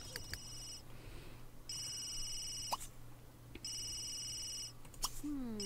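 A telephone rings in The Sims 3 video game, with three electronic ring bursts in a steady pattern over a quiet backdrop and a few short clicks and chirps between them.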